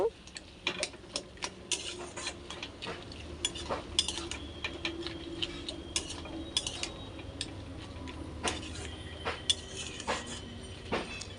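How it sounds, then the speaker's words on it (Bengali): A spatula clinks and scrapes against a kadai as fish head and cabbage curry is stirred, light irregular metallic taps and scrapes repeating at close range over a low kitchen hum. "তোমরাও এইভাবে নেড়ে দিও"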